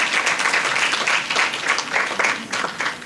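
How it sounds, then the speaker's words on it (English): Audience at a secondary school spelling bee in St. Lucia gives a steady round of applause, dense overlapping claps filling the hall for a few seconds. "Another round of applause for Mrs."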